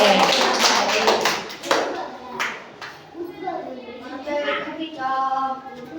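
Children clap for the winner of a round of a memory game at a school learning festival, a short run of quick claps near the start, then children talk.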